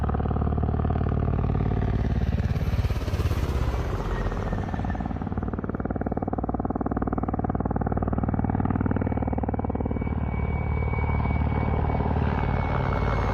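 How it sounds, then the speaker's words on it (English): Ka-52 Alligator dual-rotor attack helicopter flying, a loud continuous rotor thrum and turbine roar that swells and fades slightly as it passes, with no talking. "The Ka-52 Alligator, that's this first helicopter. It's got the dual rotors on it."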